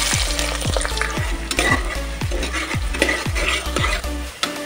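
Onions frying with spices in about five tablespoons of hot oil in a pressure cooker, for potato mutton korma: a loud, continuous sizzle with rhythmic stirring scrapes roughly twice a second, and no voices.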